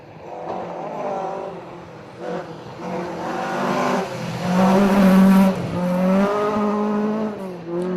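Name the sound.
Ford Escort Mark II rally car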